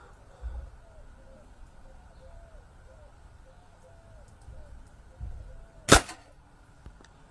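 Brand-new Boston Le Protecteur air rifle, still being broken in, fires one sharp pellet shot near the end, with birds calling faintly in the background and a couple of soft low thumps beforehand.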